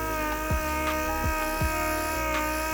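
A power sander whines steadily up close while prepping a car fender for paint, with a few sweeping strokes rising and falling over its constant hum.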